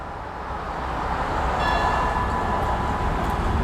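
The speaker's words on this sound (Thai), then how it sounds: "ตอนนี้ขบวน 210 นะครับ ก็กำลังจะออกต้นทางที่สถานีบ้านตาคลี" Train 210 pulls out of the new double-track Ban Takhli station in Thailand with a deep, swelling rumble that grows louder and holds steady, with a faint high tone briefly above the noise.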